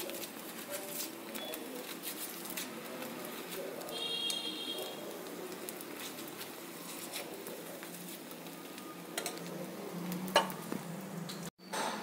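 An egg dosa sizzles quietly on a hot pan while ghee is rubbed over it, a soft, steady frying hiss with faint scraping and bird chirps in the background.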